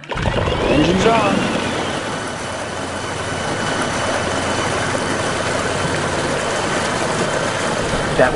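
A 32-foot electric catamaran runs on two 2,000-watt Torqeedo electric outboards, giving a steady low hum mixed with water wash and wind, fairly loud and constant from start to finish.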